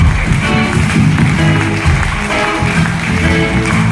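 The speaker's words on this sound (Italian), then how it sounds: "Facciamo un applauso a loro." Audience at a live comedy show in the Teatro Corallo, Bardolino, applauds the sound crew; steady, dense clapping fills the hall throughout, with music and background voices underneath.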